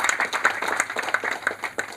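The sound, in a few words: audience clapping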